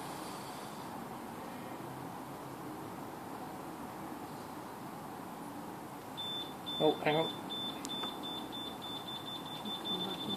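A Honda VFR1200 motorcycle alarm gives a short series of faint, regular electronic beeps partway through, set against steady outdoor background noise with a brief spoken remark.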